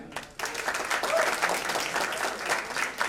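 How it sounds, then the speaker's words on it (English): An audience at a Shahrukh Khan fan awards event gives sustained, fairly quiet applause, with a few voices mixed into the steady clapping. "Please a round of applause for him."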